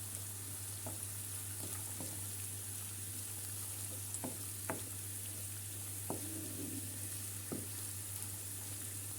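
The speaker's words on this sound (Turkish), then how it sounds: "Şöyle sadece kokusunu çıkarasıya kadar karıştırıyorum." A red lentil köfte mixture stirring and frying in a pan, with a steady, quiet sizzle broken by a few sharp spatula scrapes spaced a second or two apart.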